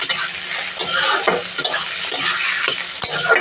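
Potatoes added to frying onion sizzle loudly and steadily in a pan while a utensil stirs and scrapes in repeated strokes, with occasional sharp metallic knocks against the pan.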